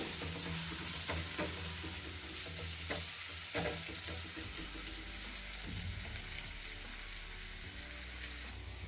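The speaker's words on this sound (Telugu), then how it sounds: "ఇలా కొంచెం కరివేపాకు, ఒక 2-3 నిమిషాలు ఉడికించుకుందాము." Curry leaves cook with aloo cabbage in a pan, a constant close frying sizzle with light stirring clicks and scrapes and a lower simmering rumble later on.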